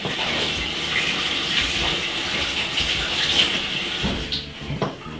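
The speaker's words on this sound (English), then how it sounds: "we're going to wash off this one" Green bananas are washed under running water at home, a steady gush of water with splashing and handling noises for several seconds. It is close and fairly loud, with no talking.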